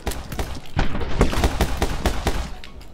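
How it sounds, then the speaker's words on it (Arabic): Heavy gunfire in the video game My Friend Pedro: rapid, loud bursts of overlapping shots crack out in a dense, irregular volley with no talking. "كميه رصاص هائله"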